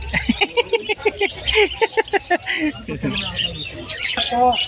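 Small caged birds, including cockatiels, chirp and tweet in quick bursts at a bird seller's stall, mixed with close conversation from people nearby.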